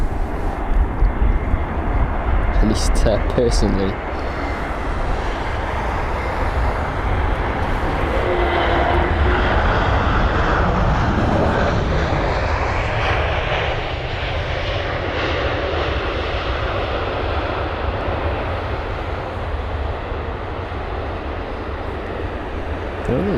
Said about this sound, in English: it's the Lufthansa jet with the old livery, the much preferred one